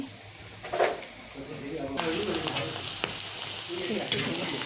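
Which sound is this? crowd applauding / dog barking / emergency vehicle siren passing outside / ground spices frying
ground spices frying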